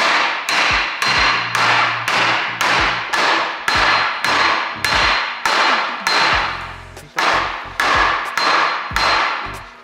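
A frozen bushing is hammered into place with a steady run of about a dozen sharp metal blows, each ringing briefly before the next, loud and close with a short pause near the six-second mark.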